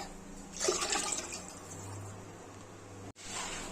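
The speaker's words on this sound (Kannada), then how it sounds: "ನಾನಿಲ್ಲಿ ಒಂದೂವರೆ ಗ್ಲಾಸ್ ಅಕ್ಕಿ ಹಾಕಿದ್ದೀನಿ ಮೂರು ಗ್ಲಾಸು ನೀರು ಹಾಕೊಂತ ಇದ್ದೀನಿ" Three glasses of water poured onto one and a half glasses of rice for menthya bath make a brief, close splashing gush that fades into a low steady background.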